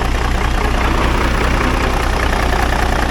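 A small cam Cummins diesel in a winch truck idles steadily and close by at its first start, with a faint light rattle running through the even rumble.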